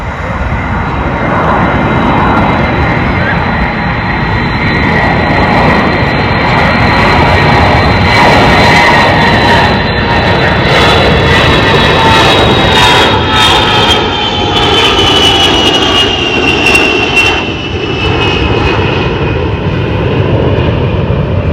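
Boeing E-3 Sentry, a modified 707-320, flying past at an airshow: a loud, sustained jet roar that swells as it nears, with a whining tone shifting downward as the aircraft passes overhead.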